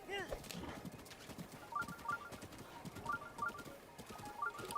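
A horse gallops in the video game Zelda: Breath of the Wild, with quick rhythmic hoof clip-clops repeating steadily under a few light chimes. The sound is fairly close and moderately loud, with no talk over it.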